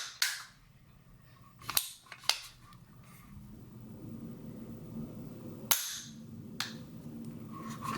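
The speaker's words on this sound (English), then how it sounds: "if you compare this once again to the AR-15 single stage trigger" An AR-15 single-stage trigger is dry-fired, giving a few sharp, isolated metallic clicks spaced apart over a quiet, faintly hissing background, close up and fairly crisp.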